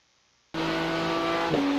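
A race car in the iRacing sim rips along Red Bull Ring at full speed, its engine note bursting in suddenly after silence and holding a loud, steady high-revving drone with a brief pitch shift near the end.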